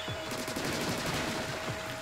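Rapid automatic ink-weapon fire in the video game Splatoon 2, a steady stream of quick repeated shots with a constant high whine, loud and unbroken for the whole stretch.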